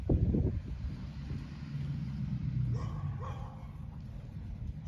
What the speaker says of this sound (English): sorry about the yappy dog in the background.